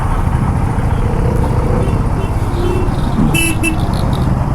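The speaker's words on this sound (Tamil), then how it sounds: "இப்போ பார்த்தீங்கன்னா எவ்வளோ டிராஃபிக்காக இருக்குது" Dense, loud road traffic on a highway ride from Hyderabad to Aurangabad in Maharashtra, with constant engine and motorcycle roar, several car horns honking near the end, and people talking.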